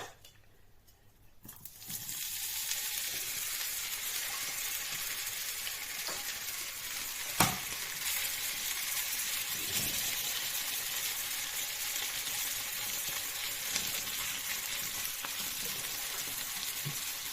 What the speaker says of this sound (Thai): ทอดมันฝรั่งจ้ะ